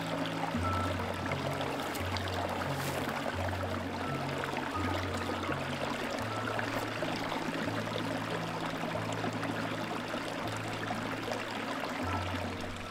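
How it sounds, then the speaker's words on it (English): Water trickles steadily at a campsite in Idyllwild, a continuous soft, broadband flowing and splashing wash that holds an even level throughout, with faint low hum tones running underneath and no talking. "I could hear the sound of trickling water."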